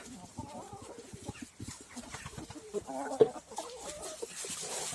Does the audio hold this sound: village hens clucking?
yes